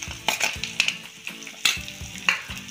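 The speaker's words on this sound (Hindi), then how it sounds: "अदरक को भी फ्राई करेंगे।" Ginger fries in a pan with chillies and garlic, giving a close steady sizzle punctuated by regular scraping stirs roughly every half second, with no talking.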